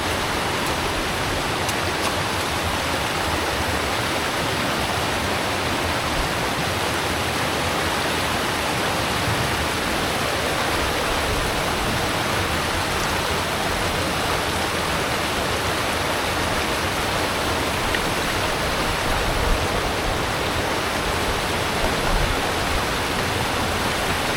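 A river in the Knoydart wilderness, heard as a steady, dense rush of flowing water that stays even and close for the whole stretch, with no voices.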